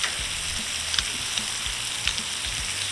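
Onions sizzle steadily in butter and canola oil on a hot flat-top griddle, a bright continuous crackle with soft scraping taps at a quick irregular rhythm, close and alone.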